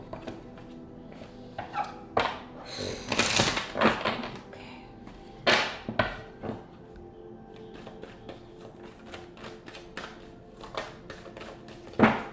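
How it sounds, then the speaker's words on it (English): A run of soft papery flicks and riffles from tarot cards being shuffled close by, coming in quick bursts with short pauses between. "Just one more shuffle."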